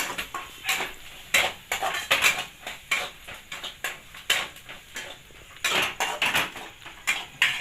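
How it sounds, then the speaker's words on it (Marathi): Spoon stirring a fenugreek leaf mixture with peanuts in hot oil in a metal pan, giving irregular scraping and clinking strokes, fairly close and moderately loud, with no talk. "आता याला छानपैकी असं मिक्स करून घेऊ आपण सगळं"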